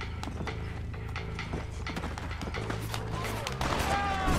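Horse hooves gallop in a rapid, steady clip-clop in the Red Dead Redemption video game, with scattered gunshots and game noise mixed in. The sound stays faint throughout.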